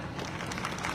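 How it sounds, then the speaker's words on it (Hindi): An audience at a gathering in Jodhpur gives a brief, faint round of applause, a thin steady patter of hand clapping heard from a distance. "मेरी पुष्पा चौधरी मैम और महेंद्र जी सर के लिए जोरदार ताली"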